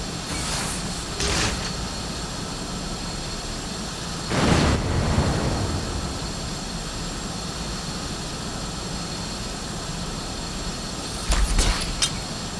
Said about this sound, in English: You guys think this airplane's loud enough?